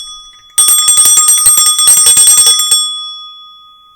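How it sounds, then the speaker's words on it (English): A small hand bell is rung to clear the energy before a tarot reading: a loud, rapid run of bright metallic strikes, then a ringing tone that fades slowly into silence. "I'll start with my bell to clear the energy."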